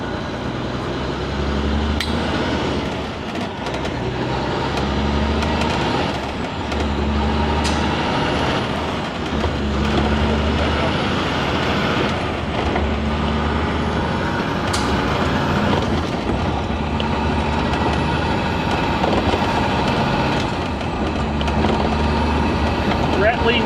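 Kenworth trucks idle and rumble at a warehouse, with heavy diesel throb, sharp air-brake hisses and clanks scattered throughout, loud and close, under ongoing talk.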